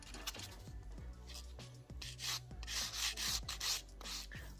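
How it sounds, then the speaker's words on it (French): An acrylic nail tip is buffed over its whole surface with a small sanding block, producing a close, quiet, rhythmic scratchy rubbing in short repeated strokes. "vous allez poncer avec un petit bloc la surface de la prothèse au complet"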